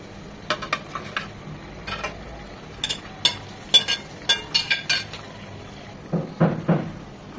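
Chicken pieces going into cooked-down masala in a pan for Bihari chicken curry, a run of close metal clinks and scrapes from spoon against pan with soft stirring and a faint sizzle, no talking.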